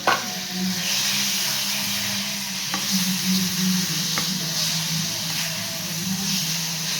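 Beetroot being stirred into hot ghee in a pan for halwa, a steady loud sizzle and hiss with scraping stir sounds and a couple of sharp spoon knocks against the pan, no voices.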